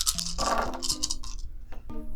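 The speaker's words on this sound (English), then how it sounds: "so let's roll our dice." Dice clatter and rattle as they are rolled across a table during a Call of Duty board game, several quick hard clicks and knocks close by, then a few sharp taps as they settle.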